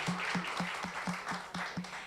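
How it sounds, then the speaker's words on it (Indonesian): Church congregation clapping at a service, a steady wash of applause with a faint repeated tone pulsing under it, moderately distant and sustained throughout. "tepuk tangan buat bapak-bapak kita"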